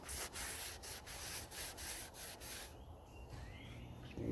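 Steady scratchy sanding rubs back and forth across a wooden boat hull near the breast hook, close and fairly quiet, with strokes fading into softer scraping toward the end.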